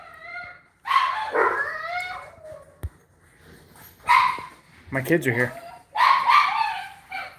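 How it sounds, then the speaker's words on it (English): Dogs bark in short bursts close by, with yips and whimpers between, while someone talks over and between the barks in a room. "And my dogs are barking."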